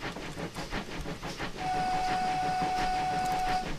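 In Train Simulator 2018, a steam locomotive's steady, sustained whistle tone rises midway and holds for about two seconds over the rhythmic chuffing of its engine on the Swindon-Highworth branch line.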